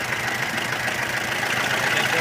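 The engine of a 1926 Ford Model TT one-ton tow truck runs at full throttle, a steady, rough mechanical clatter and hum held at an even level, close by.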